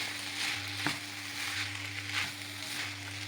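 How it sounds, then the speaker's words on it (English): Leftover white rice frying and simmering in a pan gives a steady soft sizzle with a low hum running under it and a few faint clicks, heard alone with no voices. "So allow everything to just simmer together for about 2 minutes"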